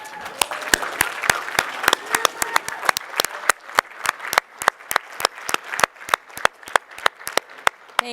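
Scattered audience members applaud planning committee members at an association members' meeting, with sharp individual claps ringing out at an uneven, moderately quick pace over a quiet room, with faint background murmur.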